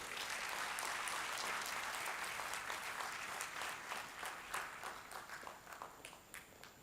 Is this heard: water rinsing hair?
no